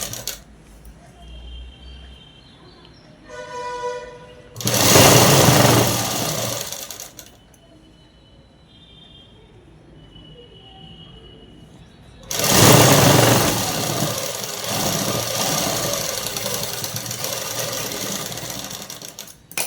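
A sewing machine stitching down the folded hem of a pair of pants runs in two loud, steady whirring bursts close up, separated by quieter handling noise and faint background sounds.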